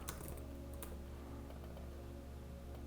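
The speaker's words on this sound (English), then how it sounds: "I'm going to type in coal miner" Quiet, rapid typing on a computer keyboard, a run of soft key clicks over a steady low hum of room or computer noise.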